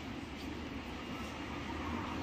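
A Kolkata metro station with a train: a faint, steady low rumble and hum of rail traffic and station ambience, continuous and without distinct events.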